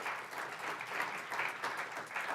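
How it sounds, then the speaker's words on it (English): A crowd applauds at a fast pitch business competition, a brief sustained wash of many hands clapping, even and moderately loud throughout. "So we want to give them a round of applause."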